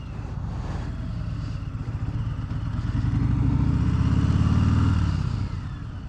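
A Harley-Davidson Sport Glide motorcycle cruises on the interstate with a steady, throbbing V-twin engine rumble and wind rush, swelling slightly louder midway as it pulls along.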